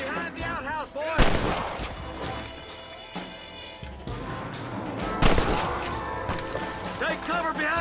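In the video game Red Dead Redemption 2, gunshots crack repeatedly in an outdoor shootout, several loud, sharp blasts among scattered fire, mixed with in-game voices and shouting.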